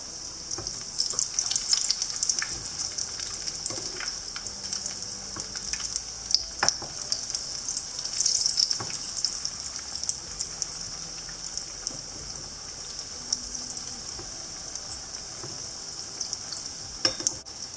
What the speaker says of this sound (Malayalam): ഇനി ഒരു മീഡിയം ഫ്ലെയിമിൽ നമുക്കിത് ഫ്രൈ ചെയ്തെടുക്കാം